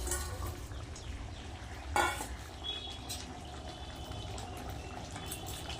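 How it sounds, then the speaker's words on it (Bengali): Fish pieces slide into a bubbling fish curry in a kitchen pot, a soft steady simmer and stir throughout with one brief louder splash-like burst near the start; no talk. "ঝোল ভালোভাবে ফুটে গেছে এবার আমি একে একে মাছগুলো দিয়ে দেবো"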